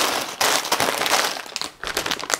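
Plastic bags crinkle and rustle up close while building-brick kits are unpacked, a dense run of crackly handling noise with a brief pause near the middle.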